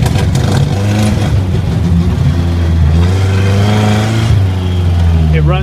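A 1980 Chevy Luv engine, its carburetor jets running too lean, revs hard at full throttle: a loud, close, sustained roar with rising and falling pitch and someone talking over it.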